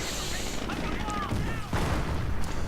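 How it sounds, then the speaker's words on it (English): Sherman tanks in a video game firing high explosive shells into concrete Wehrmacht quarters, heard as a dense, continuous din of booming blasts and gunfire with a heavier burst partway through. "Shermans blazing away at the Wehrmacht quarters. High explosive shells ramming right into it, blowing away large chunks of concrete."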